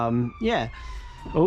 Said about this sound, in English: siren in the background, apologies for the noise